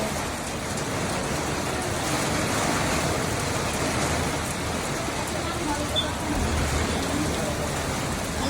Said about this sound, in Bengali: এত ঝড় বৃষ্টি আল্লাহর রহমতের বৃষ্টি হচ্ছে সব ভেঙে যাচ্ছে